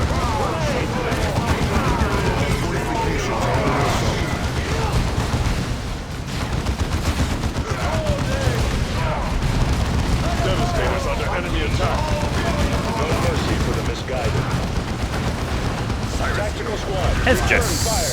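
Grenade launchers and mechanical weapons firing in a busy Dawn of War 2 battle, a steady stream of pops, clanks and bursts running the whole time beneath continuous conversation.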